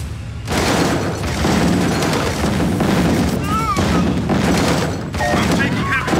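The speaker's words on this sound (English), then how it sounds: "I'm taking heavy fire." Dense, continuous gunfire and booming artillery from a 3v3 online strategy game battle roar at high volume, with overlapping bursts and blasts. Short unit voice lines cut through the din.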